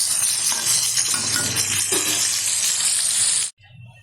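Katla fish sizzling loudly in hot oil as the pieces are flipped, a steady bright crackle with a few soft clunks before the frying cuts off abruptly near the end.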